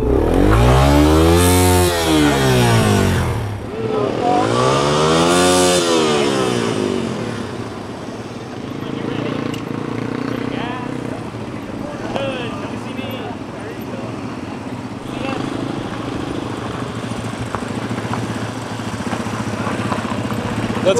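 A nearby motorcycle engine revs up sharply twice, then drops to a lower, uneven running rumble while people talk over it, at an overlanding expo in Flagstaff, Arizona.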